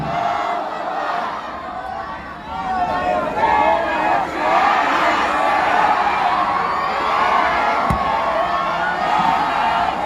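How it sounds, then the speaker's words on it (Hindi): A large crowd at an AIMIM rally for Asaduddin Owaisi at Champa Chowk, Aurangabad, chants slogans in loud, continuous unison, the massed voices sustained and rising without pause. "जोरदार नारे से जो है तो उनका यहां पर इस्तकबाल कीजिए। नारे तकबीर, नारे तकबीर।"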